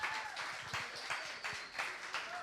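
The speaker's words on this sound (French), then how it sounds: "Est-ce qu'on peut applaudir Julie?" Congregation applauding during a Sunday church service, with soft, rhythmic clapping bursts that sound fairly faint and distant.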